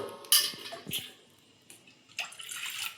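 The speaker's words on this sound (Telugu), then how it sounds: "ఇప్పుడు ఇందులో 2 cups వాటర్ అయితే తీసుకుంటున్నాను అనమాట." Water poured into a pot for cooking Maggi noodles, two cups measured in, with a few brief splashes and pouring bursts and light clinks of the pot in a quiet kitchen.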